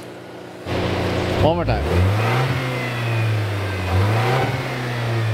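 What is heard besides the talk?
2024 Toyota Tacoma 2.4 liter turbo inline four engine revving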